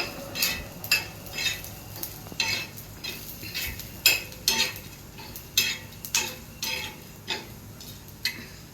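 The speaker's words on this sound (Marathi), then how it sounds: "एकदम लाल मसाला भाजून घ्यायचा" Red masala spice paste roasting in a pan, stirred with a utensil that scrapes and taps the metal in a steady rhythm about twice a second over a low background sizzle.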